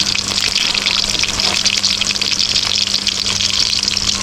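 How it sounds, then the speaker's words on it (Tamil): Biryani bubbles and sizzles vigorously in a pot up close, a continuous frothy hiss of boiling liquid with no talking. "அங்கே பாருங்கள் அது கொதிக்கிட்டு பாருங்கள்"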